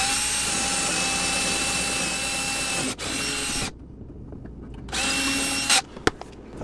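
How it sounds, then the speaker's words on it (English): A power drill bores through the aluminum wall of an Airstream travel trailer from outside, whining loudly and steadily for about three seconds, then a pause and a second shorter burst, followed by a few small clicks. "I'm drilling from the outside here because that's going to give me the cleaner hole"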